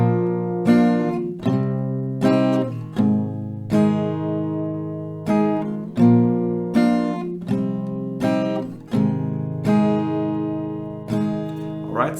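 An acoustic guitar strums the chord progression from a song in two rounds, with strong regular strokes, each chord ringing out before the next, played alone and close with no talking.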